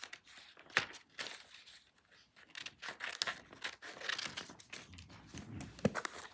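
Paper is cut into a square, giving quiet, scattered crinkles and snips in short irregular bursts with pauses between them.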